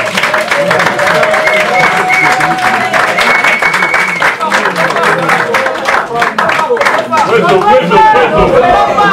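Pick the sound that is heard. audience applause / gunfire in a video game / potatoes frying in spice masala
audience applause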